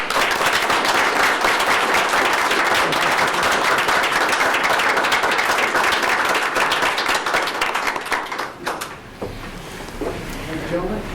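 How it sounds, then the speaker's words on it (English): Standing applause from the audience at a city council meeting fills the room, loud and continuous for most of the stretch before tapering into scattered claps and faint murmurs near the end. "So could we all stand and give them a round of applause?"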